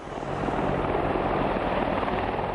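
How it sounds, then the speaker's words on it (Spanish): Apache attack helicopter flying, a steady broadband rotor and turbine roar holding at constant loudness throughout, with no voices. "Quizás el destructor de tanques más temible fuese el helicóptero Apache."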